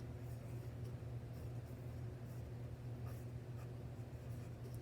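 Handwriting on lined kindergarten paper gives a continuous soft, dry scratching of pencil against the page. The scratching is close and even throughout, with no voices.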